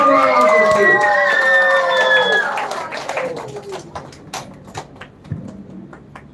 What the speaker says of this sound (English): Give a big round of applause to her and please welcome her onto the stage.